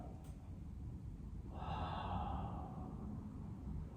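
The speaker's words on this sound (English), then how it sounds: "Take a big breath." One big deep breath is drawn during a floor exercise practice, a soft, close inhale that swells midway through and fades into quiet room tone, with no talking.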